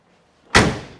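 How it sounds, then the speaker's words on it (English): A 1969 Chevrolet Chevelle SS with a 396 engine, four-speed and bucket seats has its car door shut once, a single loud, close, solid slam that rings off briefly after near silence. "Doors shut real nice, real tight, no creaks, groans, metal on metal when you open or close the doors."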